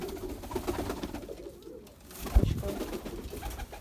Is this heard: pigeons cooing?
yes